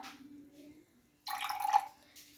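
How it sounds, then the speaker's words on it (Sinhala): Turmeric indicator solution poured into a glass, a brief splashing trickle that comes on suddenly and lasts under a second, in a quiet room. "අපි මේ දාර්ශකයෙන් ස්වල්පයක් වීදුරුවට දාගමු"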